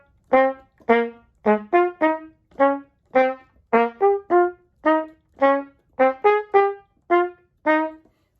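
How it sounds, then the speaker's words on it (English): Trumpet playing a line of clear, detached notes in steady succession, about seventeen distinct tones with some repeated pitches and a moving melody among them, close and fairly loud, with no talking. "Play the moving melodic line a little bit louder than the repeated notes above"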